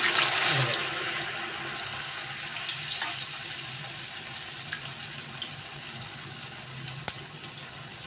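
Rice roti frying in hot oil, a steady soft sizzle and bubbling hiss running throughout, with occasional small pops and crackles, moderately quiet and close.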